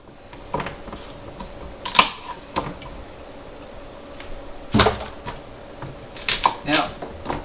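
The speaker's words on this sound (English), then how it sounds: "Cut this celery up." Knife chopping celery on a board, irregular sharp close cuts landing in small bursts with pauses between them.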